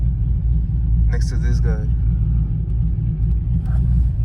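A lifted car's engine rumbles low and steady on a street lined with other cars, a close continuous drone running beneath brief speech from people inside.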